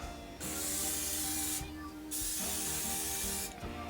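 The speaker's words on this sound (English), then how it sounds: "take your non-stick cooking spray and spray the tops of the chicken" Two long hissing bursts of an aerosol non-stick cooking spray onto chicken, close up, separated by a brief pause, with a third burst starting at the end.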